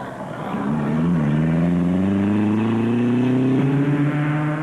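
Rally vehicles, including Ford entries and a Toyota Hilux 2.7, speed along the Sugarbelt 400 course as a loud engine drones and rises in pitch, revving steadily near the listener with no talking.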